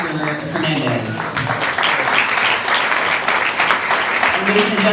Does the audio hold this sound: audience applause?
yes